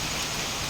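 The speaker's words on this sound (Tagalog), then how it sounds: "Nibuylo ang ulan" Heavy rain in strong wind, a dense, steady wash of hissing noise that stays close and loud for the whole brief moment, with no voices over it.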